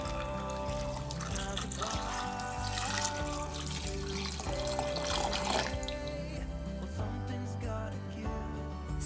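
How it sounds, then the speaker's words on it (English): Water runs into a pot of potatoes in a kitchen with a steady pouring, splashing trickle. The water is fairly quiet and sits under continuous background music with changing notes. "Fill with water."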